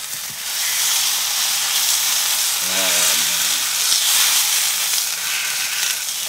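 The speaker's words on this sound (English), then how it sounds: "we've checked off 1, appearance, 2, that sound of that sizzle." Steady loud sizzling of fat in a hot pan, a continuous crackling hiss with a brief low hum in the middle.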